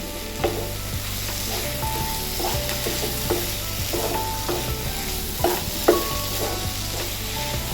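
Tomatoes cooking in a covered pan for an aloo palak curry, a steady close sizzle and frying hiss with occasional soft stirring clinks and lid knocks, no talking.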